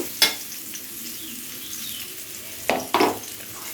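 Pumpkin and other vegetables frying in a pan with oil, giving a steady soft sizzle alongside a few sharp stir or scrape bursts near the end.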